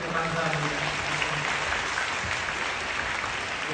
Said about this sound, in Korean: 크게 박수 주시고 감사합니다